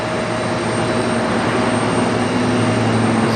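Airplane at LaGuardia Airport in a rain storm, a steady, loud broadband engine roar with a low hum that holds evenly throughout with no breaks.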